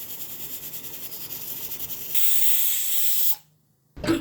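A pressure cooker of taro root curry vents steam in a steady hiss, then a louder, brighter burst that cuts off abruptly, close, with no voices.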